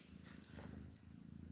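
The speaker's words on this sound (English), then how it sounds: "Hear that? She's purring." A kitten purrs close to the microphone, a faint low continuous rumbling pulse with no voices over it.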